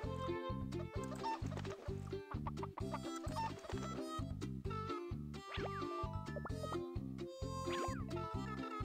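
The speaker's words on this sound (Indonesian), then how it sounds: "Petok-petok, induk ayam menetaskan telur-telur." A cartoon mother hen clucks repeatedly in a bouncy rhythm as eggs hatch, set against playful musical accompaniment with springy effects in a children's animated farm scene.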